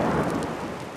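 Rain falls steadily in the White Mountains of Arizona, a dense hiss with a low rumble of thunder underneath, loud and close for about a second.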